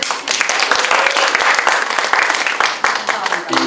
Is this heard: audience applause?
yes